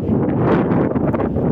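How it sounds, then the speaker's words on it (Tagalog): Strong wind buffets the microphone on a breezy outing in Polcenigo, a loud continuous rumbling roar with gusty flutter and no clear speech. "Ang hangin!"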